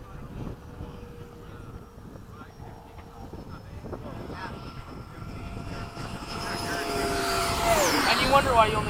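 Freewing 80mm F-5 electric model jet making a low pass at a flying field, its ducted-fan whine swelling louder as it approaches, with wind buffeting the microphone and people talking nearby.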